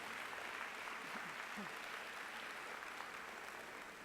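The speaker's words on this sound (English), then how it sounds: "And I think that deserves a round of applause as well." Sustained applause from a large convention audience at an after-school association's national opening plenary, marking 25 years of after-school programs. It is a steady, dense wash of clapping throughout, moderately distant, with no voices over it.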